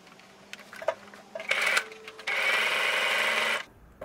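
A domestic sewing machine stitches a zipper with the slider open, starting in short stop-start bursts of whirring needle motion, then running one longer continuous stretch before stopping, close and fairly quiet.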